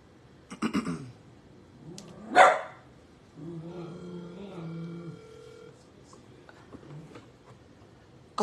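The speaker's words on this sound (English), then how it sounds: "Oh, the dog." A dog barks in a few sharp bursts near the start and again midway, with a low growling stretch between, heard indoors during a phone call with people talking nearby.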